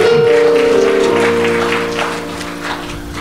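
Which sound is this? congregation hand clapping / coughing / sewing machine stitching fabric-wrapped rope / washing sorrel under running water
congregation hand clapping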